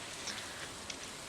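Rain falls in the farming video game Stardew Valley, a soft, even hiss of steady rainfall with a few faint droplet ticks, quiet and without any talk.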